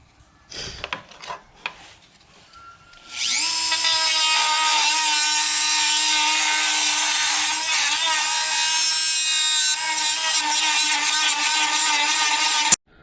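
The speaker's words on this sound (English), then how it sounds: "as I'm using a grinder on metal" An angle grinder grinds down nail heads on metal, starting after a few light knocks and then whining loudly and continuously at a steady high pitch for nearly ten seconds, close by.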